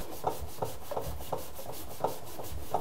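Mold is scrubbed off a front load washing machine in quick rhythmic rubbing strokes, each a close, gritty swipe repeating about twice a second with no talking.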